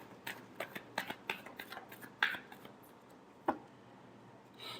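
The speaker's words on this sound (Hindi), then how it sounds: "last shuffle" Tarot cards being shuffled by hand, a quick series of crisp flicks and riffles followed by a couple of isolated card taps, close and fairly quiet.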